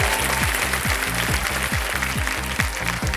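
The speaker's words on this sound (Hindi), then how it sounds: "सही जवाब दिया है आपने, तालियां बज जाए इनके लिए।" Steady studio audience applause on the Kaun Banega Crorepati quiz show, loud and continuous, under repeating rhythmic background music with low thumping beats.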